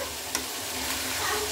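Bottle gourd curry stirred in a frying pan, a spoon scraping through the pieces over a steady close sizzle, with one brief clink near the start.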